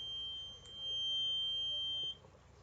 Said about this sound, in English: So when I move the paper close, it will trigger a buzzer. It will trigger a buzzing sound